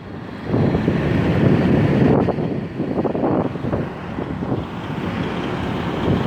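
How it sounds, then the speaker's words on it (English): Heavy trucks roll past at a Texas highway rest stop, a steady loud low rumble with wind buffeting the microphone, swelling for a few seconds and then settling into a continuous drone. "Trucks, I love trucks."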